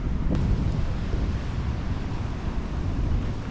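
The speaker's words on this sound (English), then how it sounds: "Watch out for freak waves." Ocean waves and strong wind beside a lighthouse wall in Wexford: a steady, loud roar of wind buffeting the microphone over the constant wash of surf, with no breaks and no voices.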